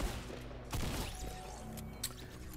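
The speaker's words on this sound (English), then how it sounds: "So I'm running over because I can hear this gunfire" Gunfire in the Fortnite video game, bursts of shots crackling over a mechanical game soundscape, with a louder burst near the middle and a sharp crack shortly after.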